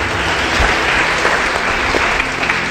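A church congregation claps together in a sustained, dense round of applause at a Sunday service, loud and steady throughout with no break.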